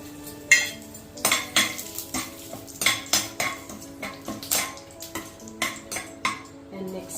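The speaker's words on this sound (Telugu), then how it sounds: "ఫస్ట్ మనము మసాలా దినుసులు వేసుకోవాలి." Whole spices go into hot ghee in a metal pan for palak methi pulav. Rapid, close metallic clinks and scrapes of a spoon against the pan sound over a faint sizzle.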